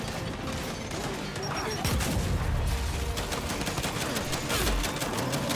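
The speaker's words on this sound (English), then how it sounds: "Throwing frag!" Gunfire and a frag grenade blast in the Gears 5 campaign, rapid crackling automatic shots and metallic clatter building into a loud burst, dense and close, with shouted callouts around it.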